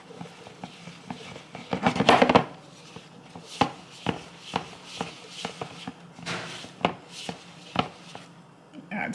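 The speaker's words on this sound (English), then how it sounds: "I'm gonna add a little more milk and I'm gonna stir this up and mix the milk in there." Spoon stirring milk into thick sugar cookie icing in a bowl, close scraping and clacking strokes in an irregular rhythm, with a louder rough burst early on and softer strokes after.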